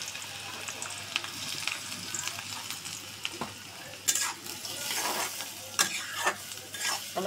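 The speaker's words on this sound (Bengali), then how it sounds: "পেঁয়াজ কুচি দিয়ে দিলাম।" Chopped onion fries in oil in a wok, a soft continuous sizzle with louder bursts of crackling and stirring scrapes, close by.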